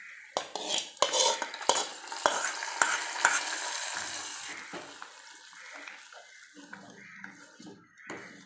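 Fried cashews and raisins go into a pot of black kavuni rice payasam: sharp clatters and scrapes of a spoon against metal, then softer bubbling sizzle and stirring, close and moderately quiet.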